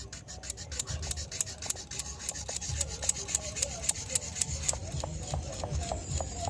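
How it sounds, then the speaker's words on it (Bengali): A piece of sandalwood is rubbed against a stone wetted with rose water, making a close rhythmic scraping with quick repeated strokes at a steady pace throughout. "এবার এইভাবে একটু চন্দন কাঠটাকে ঘষে নেবো"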